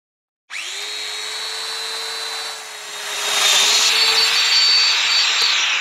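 Festool Domino joiner cutting a mortise in wood: the motor spins up sharply with a steady high whine, then the pitch shifts and the sound grows louder and rougher as the cutter plunges into the workpiece.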